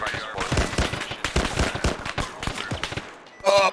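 Rapid bursts of rifle and machine-gun fire in an Arma 3 firefight, sharp repeated cracks packed closely over a few seconds, with a louder burst at the end.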